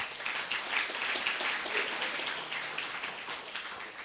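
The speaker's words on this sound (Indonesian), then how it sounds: "Tepuk tangan kepada Bapak Oya Rastawan Bapak Ibu" Applause from an audience at a village talk in Indonesia, a steady, dense patter of clapping that holds for about four seconds at moderate, fairly distant level, with no voice over it.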